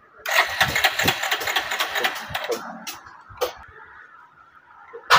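A Bajaj Pulsar motorcycle with an electrical coil fault cranks and its engine catches, running with a loud busy rattle for a few seconds, then settling to a quieter idle with a couple of sharp blips.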